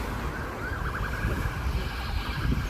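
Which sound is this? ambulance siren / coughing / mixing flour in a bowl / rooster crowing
ambulance siren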